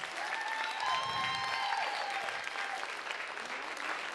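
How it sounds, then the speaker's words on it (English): Steady applause from a comedy show audience fills the whole stretch, dense and even, with faint whoops riding on top. "Give them a round of applause."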